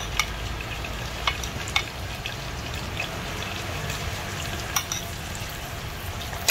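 Garlic frying in oil in a pan, a steady close sizzle and crackle with scattered small pops and faint clicks throughout, no voices.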